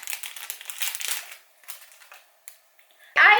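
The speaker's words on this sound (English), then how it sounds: "And let's open this plastic bag." Plastic crinkles and rustles as the plastic bag of an eyebrow stamp and stencil kit is opened, with scattered crackles, a brief quiet stretch, then a louder crisp rustle at the end.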